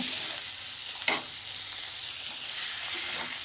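Fish head sautéing in hot oil with garlic, chopped and ground onion, ginger paste, bay leaf and nigella seeds, giving a steady close sizzle with one sharp stirring knock partway through.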